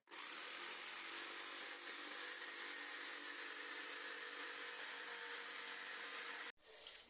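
A corded jigsaw cuts a hole in one continuous, steady buzzing run that stops abruptly near the end, followed by a brief quieter pause.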